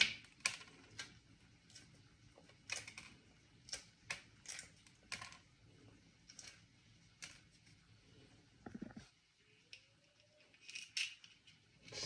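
Shell being peeled off a salted red egg by hand, a series of sharp crackling and clicking snaps in irregular bursts, close and fairly quiet, with no talking.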